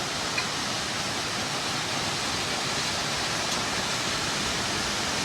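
A waterfall in Malshej Ghat makes a steady, dense rushing roar of falling water that is continuous and even throughout, fairly near, with no talk.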